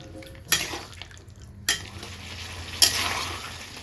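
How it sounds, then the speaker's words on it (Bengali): A spoon scraping through chicken curry with yogurt in a pan, three distinct clanks against the metal over a continuous sizzle, close and fairly loud. "আর সামান্য অবস্থায় একটু ভালো করে নাড়তে হবে।"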